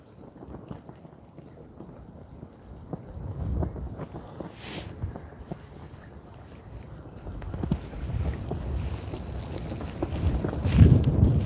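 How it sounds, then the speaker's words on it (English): Wind gusts buffet an outdoor microphone at a fishing festival, making a rough, low, rumbling roar that swells and grows stronger toward the end, with some faint scattered knocks beneath it. "hoping the microphone dulls the sound of the wind, but it's gnarly"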